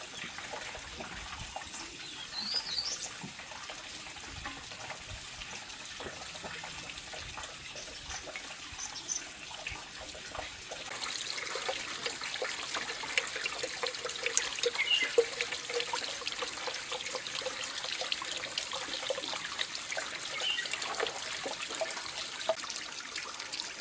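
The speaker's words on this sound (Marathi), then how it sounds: "पाण्याची एवढीशी धार आम्हाला संजीवनी देऊन गेली" A small trickle of water runs between rocks on a monsoon mountain trek to Vikatgad near Matheran, Maharashtra. It makes a faint, continuous dribbling that grows somewhat louder halfway through, with no speech.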